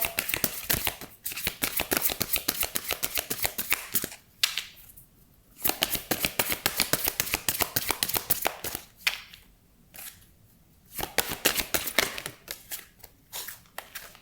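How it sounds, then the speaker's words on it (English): Oracle cards being shuffled and drawn from a deck, a dense run of quick crisp flicks and taps in bursts with short pauses between them, close and clear, with no voices. "Let's get a card from the Magical Oracle."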